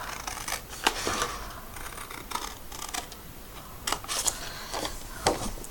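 Scissors snip through paper or card to remove a piece from a handmade mini album in a keepsake box, giving a series of close, crisp cutting clicks over a soft rustling background.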